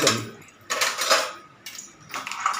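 Spoons and forks clatter into a kitchen dish rack in three short bursts of bright metallic jangling, each separated by a brief pause.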